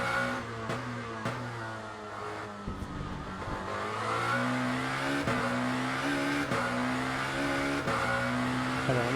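A Lamborghini V8 2024 GT race car lapping Imola in the sim racing game Le Mans Ultimate, its engine droning steadily with the pitch climbing and dropping through gear changes and brief tire squeal.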